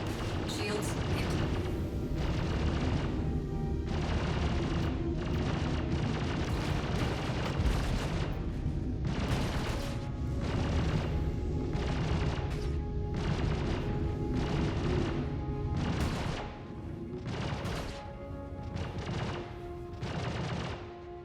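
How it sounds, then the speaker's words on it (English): A spaceship is hit by missiles in Star Citizen: repeated heavy booms and crackling blasts land in irregular bursts over a long stretch under a steady engine hum, with a voice speaking at times. "Another missile after me."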